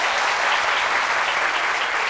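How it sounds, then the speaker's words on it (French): A studio audience applauds a team member on a French talk show, steady dense clapping that fills the whole stretch at an even level with no voices over it. "que je vous demande d'applaudir"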